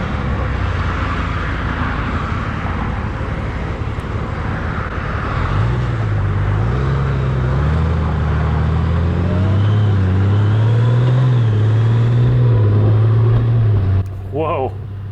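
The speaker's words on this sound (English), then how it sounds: "this dual clutch transmission thing is really slick. Man, what a nice shifting sequence" A 2019 Honda Goldwing motorcycle with a dual clutch transmission cruises along a freeway, its steady engine drone and wind rush rising and stepping through smooth gear shifts, with a rider talking over it throughout.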